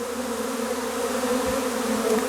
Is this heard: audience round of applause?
no